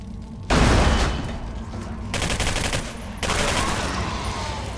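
Valkyrie automatic rifle in the game Singularity firing on full auto, two loud sustained bursts of rapid gunfire separated by a short lull, close and harsh with dense repeating shots.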